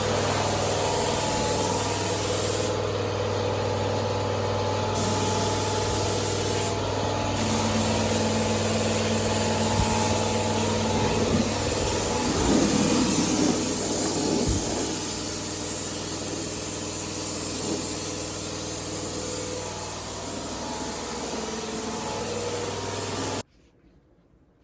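Paint spraying in the engine bay of a Jeep XJ, covering rust: a steady broadband aerosol hiss runs nearly continuously and close up, with brief bursts and a low background hum, ending abruptly near the end.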